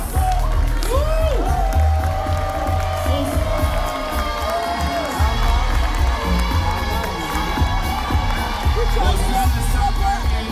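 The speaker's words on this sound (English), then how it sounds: "Give them a round of applause" A crowd applauds and cheers people being welcomed at a gathering. Loud, continuous whooping and shouting voices with clapping underneath last throughout, and high warbling calls rise above the din.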